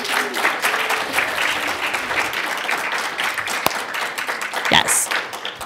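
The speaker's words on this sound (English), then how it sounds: "give all of these excellent Hynes scholars another round of applause" An audience claps for student research scholars at a campus presentation, sustained applause filling the room from start to finish, with a faint voice and a brief higher cheer near the end.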